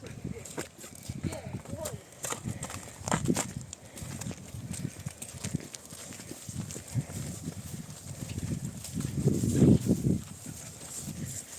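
A mare's hooves clop unevenly on the ground as she is led while people talk nearby, with scuffs and shuffling throughout and a louder burst of movement near the end.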